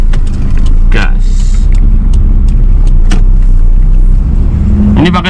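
Manual car creeping in first gear, its engine rumbling loud and close inside the cabin as the throttle is pressed and released, with someone talking over it.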